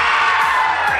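A crowd of school students shouts together loudly on a count of three at an inter-school quiz event, a dense, sustained roar of massed voices filling the whole moment.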